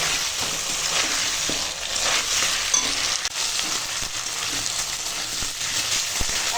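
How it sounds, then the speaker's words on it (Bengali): Green papaya, potato and plantain sautéed with black pepper, fennel and cinnamon in a pan give a steady close sizzle, with scraping stirs and soft knocks throughout and no talking. "এখন মশলার সঙ্গে আনাজটা কষানো হয়ে গেছে"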